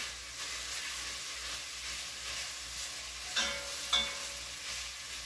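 Carrots glaze in a pan for beef bourguignon, a dense, steady close-up sizzle with a soft hiss and two brief scraping stirs near the end.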